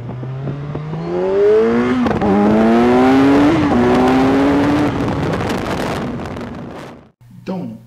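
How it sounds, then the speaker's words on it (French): A 2017 Kawasaki Z1000R motorcycle accelerates hard nearby, its engine note climbing through gear changes into a loud roar with wind buffeting, then cutting out abruptly before a short idle. "ces accélérations, c'est le point fort de cette moto épatante"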